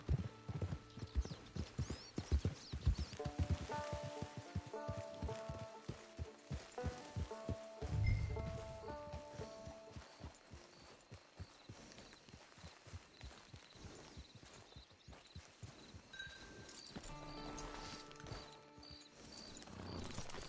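Horse hooves in the video game Red Dead Redemption 2, quick rhythmic clip-clopping that slows to scattered steps, with creaking tack, a brief snort or whinny and faint mechanical clinks, fairly quiet overall.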